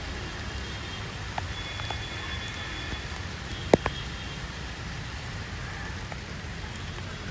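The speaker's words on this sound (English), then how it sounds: "and here it's raining again" Monsoon rain falling steadily in the Indian subcontinent, a continuous even hiss of drops with a few faint isolated ticks and one brief sharper knock midway, no voices.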